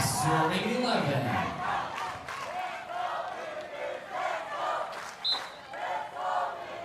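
Coaches cheer from the sidelines at a beach volleyball finals match in Subic Bay, Philippines, with shouts and crowd noise rising over commentary voices.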